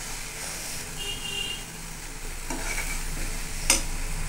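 Spiced chickpeas sizzle steadily in a pan as they are stirred, a continuous close frying hiss with a few light scraping clicks and one sharp tap near the end.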